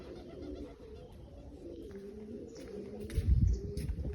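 A racing pigeon coos close by in low, repeated throaty rolls, with a brief louder rustle or flutter near the end.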